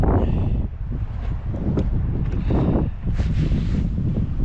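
Strong wind gusts buffet the microphone outdoors at a campground, producing loud, continuous low rumbling that swells and eases with no speech.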